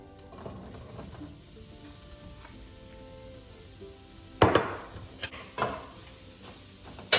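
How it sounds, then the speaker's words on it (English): Mushrooms sautéing in a little olive oil in a pan, a soft steady sizzle running throughout with a few sharper clatters of utensil against pan toward the end. "And we're just sauteing these mushrooms."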